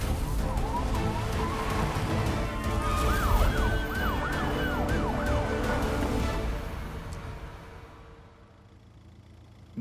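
A wailing ambulance siren in a film scene sweeps up and down repeatedly over road and traffic noise, loud at first and then fading away into the distance.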